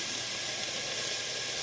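Strong onions sautéing in a pan on a stove, a steady, moderately loud hiss of steam and sizzle with nothing else over it.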